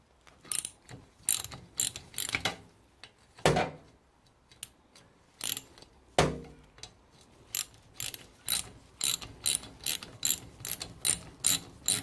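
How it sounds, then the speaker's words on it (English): A spanner ratchets on a badly corroded, bent nut on a Classic Mini driveshaft during stripdown, with close, loud bursts of rapid clicking separated by short pauses and a few heavier clunks. "I'm getting out a spanner."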